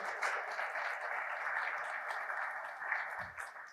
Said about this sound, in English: If we can give a little round of applause for them.